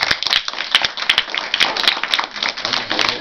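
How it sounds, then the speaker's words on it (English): Audience applause at a school theater performance of a Charlie Brown play, an uneven round of many hands clapping nearby with sharp individual claps standing out, steady for a few seconds with no speech. "Would you please give them a round of applause?"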